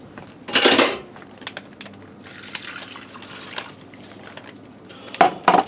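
Liquid is dumped over beef and broccoli in one short, loud splashing pour, followed by quieter stirring with scattered clinks and drips.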